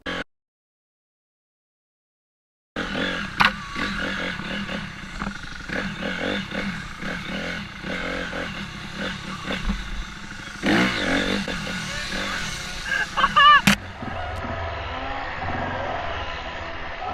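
A motorcycle ridden around on a farmer's land, its engine droning and revving steadily at moderate distance after a brief silence, with clattering and rough handling noises mixed in and a sharp bang near the end.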